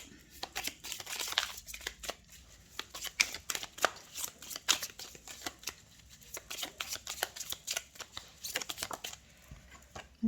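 Oracle cards shuffled and drawn by hand: quick riffling bursts and papery slaps repeat irregularly, close and moderately loud, with no one speaking.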